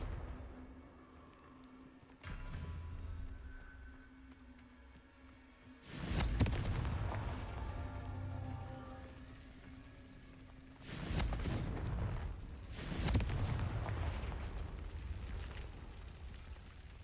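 In the Hogwarts Legacy video game, blasting spells go off as three heavy, booming explosions with long rumbling tails, each a few seconds apart and loud against quieter game ambience, with no talking.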